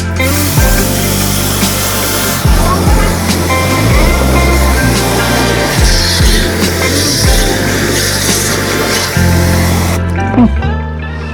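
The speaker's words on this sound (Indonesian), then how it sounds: "Jadi di situ tuh gunanya cairan dari si pembersih kita semprot." Cleaning liquid sprayed under pressure onto the evaporator of a Sanyo air conditioner gives a loud, continuous hiss and splash, with heavy low thumps pulsing through it and a brief drop near the end.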